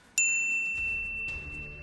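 A single bright notification bell ding rings out sharply and decays with a long shimmering tail, followed by a low background rumble.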